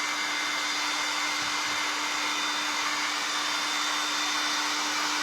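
Heat gun or hair-dryer-style heating tool blowing steadily to soften a Christmas Santa tray, a continuous whooshing roar with a constant hum, close and unbroken with no talk.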